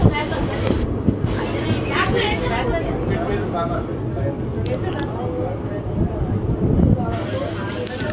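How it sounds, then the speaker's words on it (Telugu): Interior of the Palnadu SF Express as it slows near Sanath Nagar, a low rumbling rail drone with rattles and clanks under a babble of passengers' voices, a thin high whine rising near the end. "సనత్ నగర్ రాగానే మన ట్రైన్ అయితే స్లో అయిపోయింది, ఇప్పుడు ఆగిపోతుంది"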